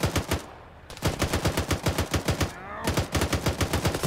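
Heavy .50 caliber machine gun in a video game hammering out rapid, loud sustained bursts with two short pauses, a brief yelp over the fire.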